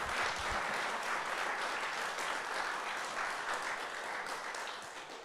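Audience applause at a hurricane anniversary vigil for Kelly, who shared a personal story: steady, dense clapping from a crowd that holds for several seconds and tapers slightly near the end, with no talk over it.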